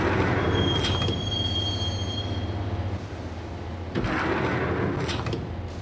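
A subway train in the video game Max Payne rumbles along the rails with a steady low roar, a thin wheel squeal early on and clattering rail joints partway through.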